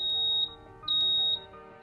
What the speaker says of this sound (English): their moment is interrupted by the smoke alarm going off.